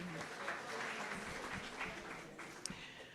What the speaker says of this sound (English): Big round of applause for Tony.